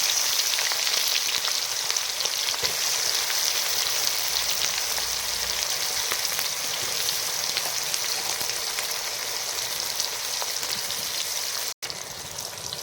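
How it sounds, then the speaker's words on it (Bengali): Chopped onions fry in hot oil with cardamom in a pan while cooking duck curry, a loud, continuous crackling sizzle that holds steady throughout. "এবার পেঁয়াজ কুচিগুলো দিয়ে দেব।"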